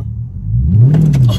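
Car engine surging hard from a light press of the gas pedal, a low rumble rising in pitch and building into a loud, close acceleration over about a second and a half.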